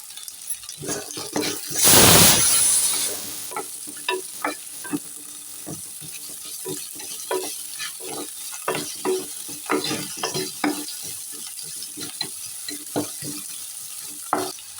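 Grated coconut masala with salt fries for a drumstick gravy, a constant sizzle under repeated scraping strokes of a spoon, with a brief loud burst early on.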